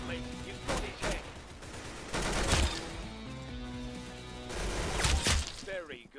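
Bursts of automatic gunfire from a shooting video game come in several loud volleys, separated by short gaps, with voices talking partly over them.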